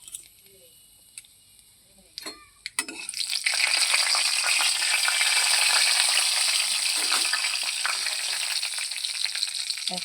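Cumin seeds and bay leaf drop into hot oil for a Bengali vegetable curry, bursting into a loud, steady sizzle after a few quiet seconds of light clinks, the frying holding strong to the end.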